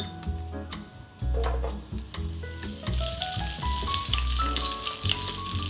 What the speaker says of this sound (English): Butter in a pan with a little garlic.